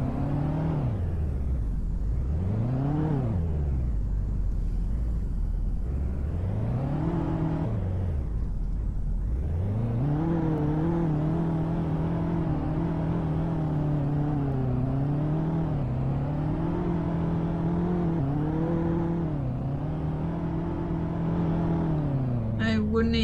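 A video-game car with a CVT transmission accelerates in Greenville, engine tone rising and falling in smooth repeated sweeps before settling into a steady droning whine, with a voice talking faintly underneath.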